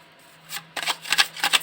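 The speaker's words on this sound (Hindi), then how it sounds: "थोड़ा शफल और कर लेती हूँ।" A deck of tarot cards is shuffled by hand in quick, crisp riffling bursts that grow busier toward the end. It is close and clear, with no talking over it.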